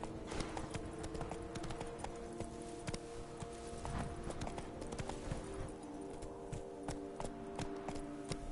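Hooves of the horse Roach clip-clop steadily as it gallops in The Witcher 3 game, a rapid repeating rhythm over a dense, busy game soundscape, with no talk.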